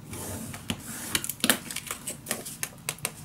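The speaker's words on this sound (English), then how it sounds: "Then I'm gonna score right here." Paper being scored for a scrapbook mini album, a quick run of sharp, close ticking clicks and scrapes with no talk.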